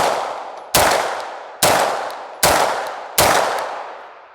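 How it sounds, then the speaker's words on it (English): A Beretta 92FS 9mm pistol with aluminum grips fires four sharp, loud shots at a steady pace, each followed by a ringing decay. "This is the Beretta 92FS with a set of aluminum grips on it"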